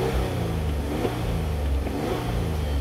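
A Hyundai engine revs up and down as the gas pedal is pumped, a steady, loud mid-range motor drone with small surges, heard close and alone without talk.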